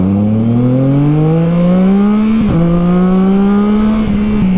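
A Triumph Trident 660 three-cylinder motorcycle fitted with a Zard full-system exhaust accelerates hard and close, its engine note climbing steadily through one gear, briefly dropping on a shift, then rising again, loud throughout.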